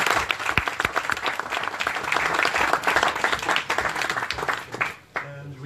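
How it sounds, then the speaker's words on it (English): An evening startup event audience in Brussels applauds three entrepreneurs, dense sustained clapping from a full room that tapers off near the end. "a warm applause to our three entrepreneurs"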